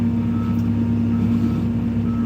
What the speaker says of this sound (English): I drive this 15-ton machine, telehandler.